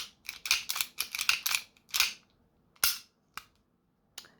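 Sharp clicks from a CO2-powered airsoft pistol firing 4.5 mm steel BBs: a fast run of crisp bursts, then several single well-spaced shots, close and loud with no talking.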